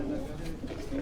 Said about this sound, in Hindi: ये मिस्से कबूतर कहलाते हैं जनाब।